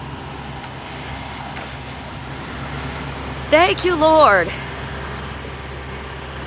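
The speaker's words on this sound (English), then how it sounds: "There's a truck coming by. It's being loud." A big 18-wheeler truck passes by outside, its engine rumble swelling loudly for a couple of seconds with a tonal whine before fading back into steady road noise, while someone speaks briefly over it.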